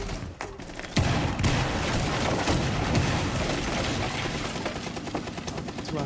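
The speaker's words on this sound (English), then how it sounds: "Who the fuck is shooting me" Dense, loud gunfire from a multiplayer shooter game, a sustained fusillade of overlapping shots and booms that kicks in sharply after the first second and rattles on without pause.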